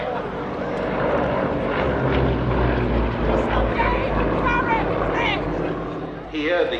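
Propeller aircraft at the East Kirkby airshow, likely a Yak 52, flying directly in towards the crowd: a steady, loud engine drone holds throughout, with a commentator talking over it.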